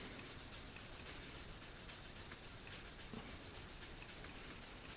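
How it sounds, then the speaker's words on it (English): Aluminum body molding from a 1966 Ford Galaxie 500 convertible is rough-sanded by hand with 320-grit paper. The rubbing is faint, even and continuous, with no voices. "This is just rough sanding"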